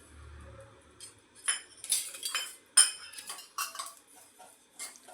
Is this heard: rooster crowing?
no